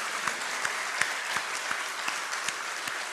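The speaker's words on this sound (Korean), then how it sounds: "크게 박수로 우리 하나님 앞에 한번 영광을 올리겠습니다" A church congregation claps loudly together in steady applause, with sharp individual claps standing out from the dense, continuous patter of many hands.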